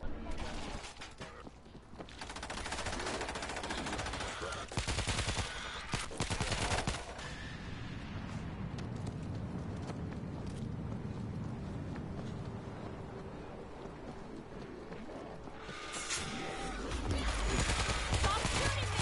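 Near-continuous gunfire rattles in the zombie shooter World War Z, heavy bursts and sustained firing filling the scene, with a voice calling out over the din.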